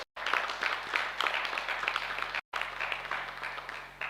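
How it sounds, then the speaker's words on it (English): At an annual general meeting, an audience applauds in a steady patter of many hands, fairly faint and distant, with two brief dropouts. "Can we have a big round of applause for our sponsors?"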